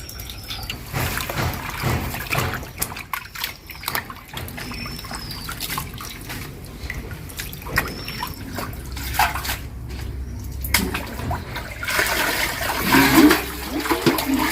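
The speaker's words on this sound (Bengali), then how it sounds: "পাতাগুলো প্রথমে ধুয়ে নেব।" Ash gourd leaves are rinsed under running tap water, a continuous trickling splash that swells and eases with occasional drips. It plays close and fairly quiet, with no one talking.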